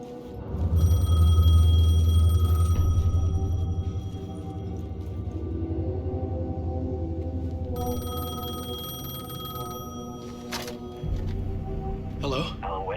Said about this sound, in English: phone was ringing